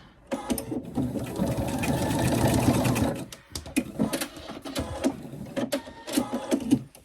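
Sewing machine stitching a small child's dress, a close steady whirring run of about three seconds followed by shorter stop-start bursts of stitching with clicks between, no talk.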